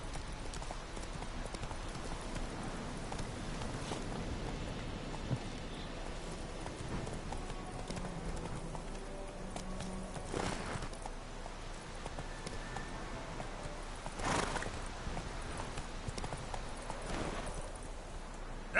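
Roach, a horse in The Witcher 3, gallops with a steady, rhythmic clip-clop of hooves over a continuous low ambient bed, with a brief spoken line in the mix.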